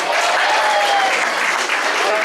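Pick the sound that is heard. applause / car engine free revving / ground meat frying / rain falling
applause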